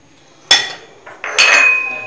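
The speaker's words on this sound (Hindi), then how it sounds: "आलू में मसाले मिक्स कर रही हूँ" A spoon clinks against a bowl while mixing mashed potato with finely chopped mint, coriander, green chilli and crushed red chilli: two sharp metallic knocks, the second followed by a brief scraping rattle. There is no talking.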